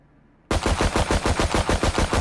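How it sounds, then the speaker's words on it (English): Rapid automatic gunfire in a video game kicks in abruptly after a brief quiet moment, a loud, close stream of evenly spaced shots with a strong low thump, with no talk over it. "Everyone surround them and shoot them"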